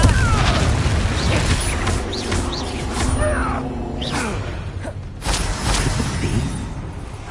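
A Confringo fire spell blasting in Hogwarts Legacy, a dense roar of booming impacts and whooshes with layered combat effects and game music throughout, loud and continuous.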